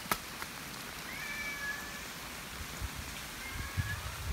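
A cat meows a couple of times over a steady wash of rain, the calls faint and drawn out, with a few soft knocks in the background.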